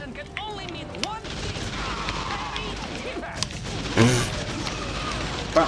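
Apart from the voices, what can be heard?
explosion in video game TimeSplitters: Future Perfect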